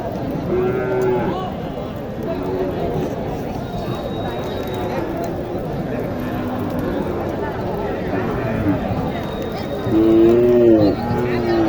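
Crossbred cows at a busy cattle market moo repeatedly, with a few drawn-out calls standing out near the end over steady crowd noise and people talking.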